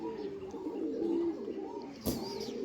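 Two fancy pigeons coo softly and steadily at close range, a low murmuring call running through the whole stretch, with a brief sharper flutter or chirp near the end and no talk over it.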